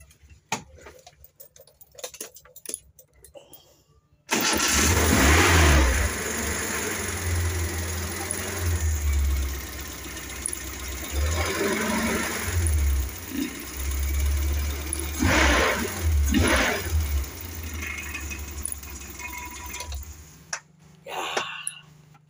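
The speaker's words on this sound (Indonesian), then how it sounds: "Dengerin aja dulu mesinnya nih." A Suzuki Carry 1.0 running with weak power and a suspected thin valve problem, idling in a steady low rumble with a fast ticking tapping over it, loud and close, with a few brief louder surges.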